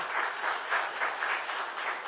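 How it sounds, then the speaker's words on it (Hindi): An audience at a summit event applauds, a steady wash of many hands clapping with a gentle pulsing rhythm, moderately loud and without voices. "आपकी इतनी तालियां नॉर्मली नेताओं में भी नहीं बजती जितनी आपके बोलने में बज रही हैं"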